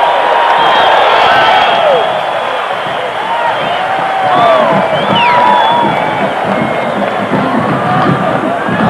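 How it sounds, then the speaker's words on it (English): A packed Jones Stadium crowd cheers loudly at a 1984 Texas Tech vs. Texas college football game, a dense, continuous roar with whistles and shouts rising and swelling throughout. "listen to this Jones Stadium crowd"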